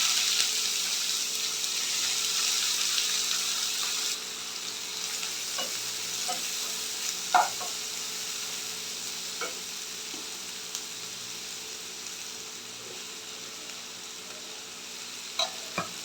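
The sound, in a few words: onion sizzling in oil with mustard, cinnamon and cloves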